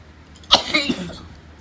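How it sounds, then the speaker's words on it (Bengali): A child's single harsh cough rings out close by, followed by a short trailing breath, alone in an otherwise quiet space. "খুব কাশি হয়েছে"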